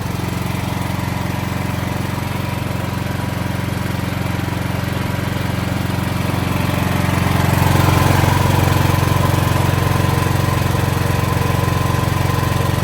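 An automatic generator engine running in eco mode drones steadily at a low, even pitch, close by, with the hum thickening slightly partway through.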